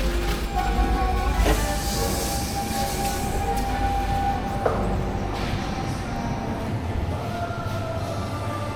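Rumbling train noise with a low steady drone and occasional metallic squeals and clanks, no talking.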